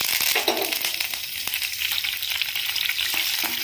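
Mustard seeds, cut green chilies, a dry red chili and curry leaves fry in hot oil with bright, continuous crackling sizzle and scattered pops, and stirring is heard throughout. No one speaks.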